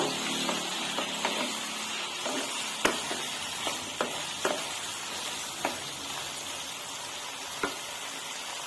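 Food frying in a pan with cumin and ginger paste, a steady hiss of sizzling oil punctuated by regular spatula taps and scrapes, close and even in level.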